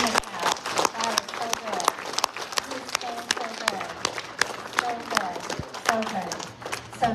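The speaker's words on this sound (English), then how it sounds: "Just give him a clap. Give him a clap." A church congregation claps in praise during a worship service, sharp irregular hand claps ringing out amid lively crowd noise and voices, near and fairly loud for several seconds.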